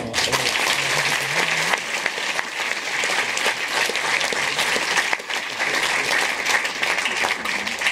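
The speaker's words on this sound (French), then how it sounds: "On peut tous les applaudir." In a cinema hall at a film festival's closing ceremony in Strasbourg, an audience claps steadily for the festival partners, a dense and sustained round of applause with a few brief swells.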